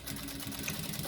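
A sewing machine stitching a seam on a small cute handbag while backstitching, a brief close burst of fast, even mechanical whirring and ticking with no talking.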